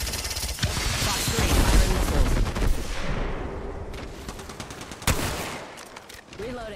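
Rapid gunfire in the battle game Apex Legends rattles out in dense automatic bursts, loud and close at first, then thinning out with a sharp single crack near the end.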